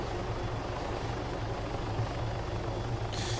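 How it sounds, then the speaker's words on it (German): A helicopter in the video game Arma 3 drones steadily nearby, its rotor thumping in a constant low rhythm, with a brief hiss near the end. "Mein Heli ist einfach zu laut."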